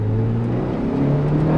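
A turbocharged first-generation engine in a Mitsubishi Eclipse 2G pulls steadily under acceleration, with a continuous loud drone whose pitch climbs gradually and no talking over it.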